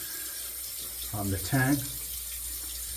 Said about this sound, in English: Heat it up with hot water.